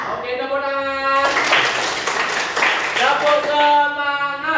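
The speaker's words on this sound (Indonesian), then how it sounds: "Oke, tepuk tangan." A fifth-grade primary school class in Indonesia bursts into a couple of seconds of group clapping in the middle, with a teacher speaking just before and after.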